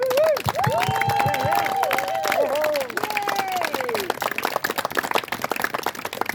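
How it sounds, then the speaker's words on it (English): An audience at a school event for students and parents gives a round of applause, dense clapping mixed with cheering and whoops and raised voices, loud and close at first, then thinning into scattered, sharper claps. "So let's give them a little bit of a round of applause."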